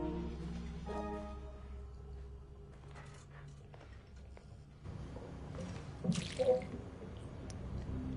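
Water splashing and dripping in a wet, moldy bathroom in the Hello Neighbor video game, with soft drips and squishy liquid movement throughout and a brief louder splashing burst near the end.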